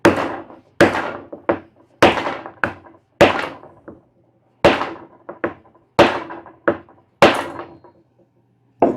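A wooden bow tie inlay is hammered into a live edge bar top with a steady series of solid, close wooden thunks, some in quick pairs, separated by short pauses.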